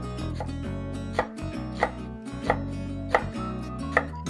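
Garlic being chopped into small cubes with a knife on a board, five or six sharp, evenly spaced knocks over a low steady hum, close up and without talk.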